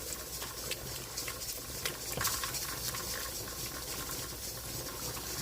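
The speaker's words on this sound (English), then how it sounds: "Let's give it a thorough stir all the way through" A big pot of bulk beef chili is stirred thoroughly, giving soft scraping and sloshing strokes over a steady background hiss, close and moderately quiet, with no talk.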